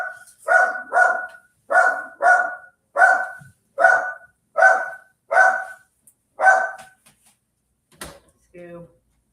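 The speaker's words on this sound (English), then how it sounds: "It'll help muffle the sound of Scooby barking a little bit." Scooby the dog barks about ten times in a steady, fairly loud series with short pauses, muffled behind a closed door. A door or drawer knocks near the end.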